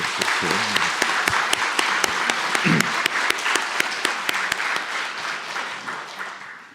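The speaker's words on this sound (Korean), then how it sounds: "우리 다시 한번 박수로 뜨겁게" A church congregation claps warmly during a New Year's Eve worship service, a dense wave of applause with sharp distinct claps that thins and fades toward the end, a few voices mixed in.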